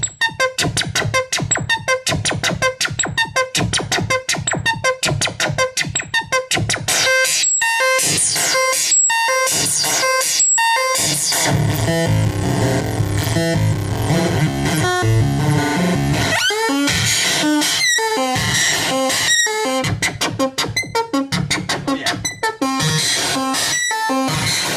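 AstroNoise Eurorack synth module on its third sound setting, giving a dense, chaotic asteroid-like noise of rapid buzzing pulses and harsh clattering textures, loud and continuous with no pauses.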